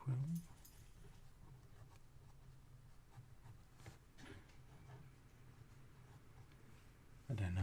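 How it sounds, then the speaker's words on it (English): A dog waking from a nap shifts position nearby, with soft rustling and faint whimpers between two louder thumps at the start and end. "dog just woke up from his nap."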